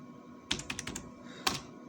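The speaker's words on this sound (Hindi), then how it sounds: "मैं अपना यहाँ पे पासवर्ड एंटर करूँगा" A password typed on a computer keyboard: a quick, close run of about half a dozen crisp keystrokes, a pause, then one last firm tap, with no talking.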